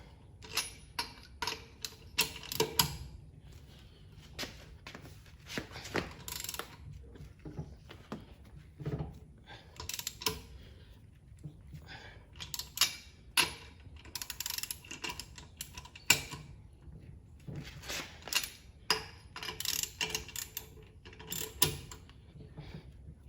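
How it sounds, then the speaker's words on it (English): Lug nuts on a car wheel being tightened by hand while a spare tire is fitted, heard as irregular bursts of ratcheting, clicking metal over about twenty seconds, close and fairly quiet, with no talk. "I just do want to get all the lug nuts that can actually get tightened up a little bit more"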